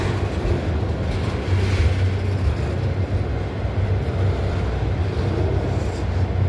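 A freight train rolls in and slows on the track at Abbeville, a steady close, loud rumble of wheels and cars grinding on with no voices.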